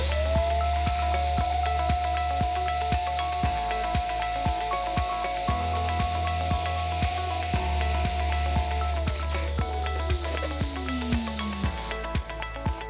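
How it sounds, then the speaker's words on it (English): An electric balloon pump runs steadily and loudly for about nine seconds as balloons are inflated for a standing balloon topiary, then its pitch sags as it winds down, with rhythmic clicks and rustling throughout. "I'm going to be using my electric pump because it's a lot faster for me."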